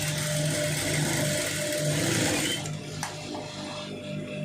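Sewing machine running continuously while stitching a long sleeve seam, a steady mechanical whir that is moderately faint and close, easing off slightly near the end.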